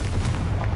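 A Confringo fire spell blast in the Hogwarts Legacy video game, heard as a short, dense, booming burst of fiery noise, loud and close, with no talking.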